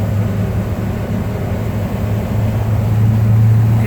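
A 1969 Ford Bronco half-cab truck accelerating on the road, its engine a steady, loud low drone with a rising hum, heard continuously from inside the cab with no talking.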